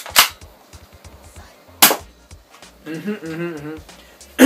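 A knockoff Nerf M16 foam blaster is fired twice, each shot a sharp, loud pop roughly a second and a half apart, with someone talking briefly between them and a third pop right at the end.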